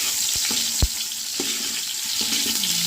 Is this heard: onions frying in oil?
yes